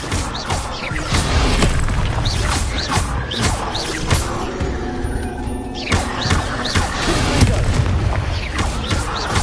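Booming spell impacts from the video game Hogwarts Legacy, Expelliarmus among them, heavy thuds and crashes repeating through a loud, dense combat soundscape with no voices.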